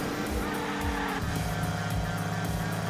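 A car in Hot Wheels Unleashed races around a track, its engine buzzing and revving in repeated surges with faint tire squeal and no voices.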